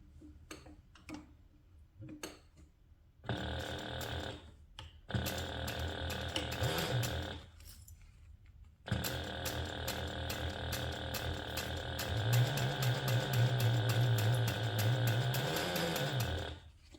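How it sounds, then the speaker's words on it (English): A sewing machine stitches a handbag seam at a quarter-inch allowance, running in several bursts with short pauses and clicks between them, close and fairly loud, with no voices. "we're going to sew this in place using a 1/4 inch seam allowance"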